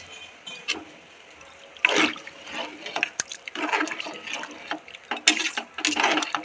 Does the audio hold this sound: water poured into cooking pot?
yes